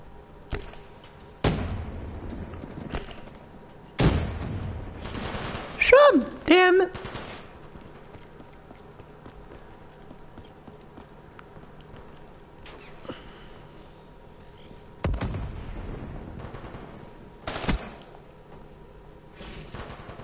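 Scattered bursts of video game gunfire, a few loud clusters separated by quieter gaps, with occasional thuds and a brief high squeal in the middle.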